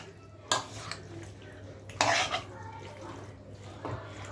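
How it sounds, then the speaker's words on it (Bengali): Spicy chicken wing marinade being stirred and mixed in a bowl at home, with a couple of clear clanks of utensil against the bowl and soft scraping between them, under steady background hum. "প্রথমে এটা ভালো করে মিক্স করে নিতে হবে, যাতে সব জায়গায় ভালো করে মিক্স হয়ে যায়।"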